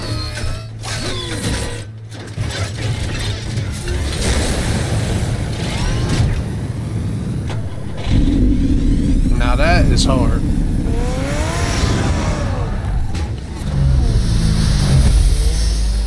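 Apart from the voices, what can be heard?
Batman's car engine revving and transforming, Batman Telltale video game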